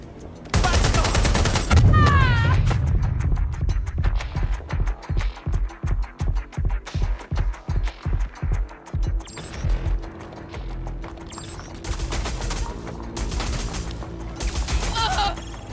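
Gunfire in Watch Dogs: Legion: a steady rhythmic string of sharp shots, loud and close, followed by scattered bursts and clatter, with a brief voice near the start.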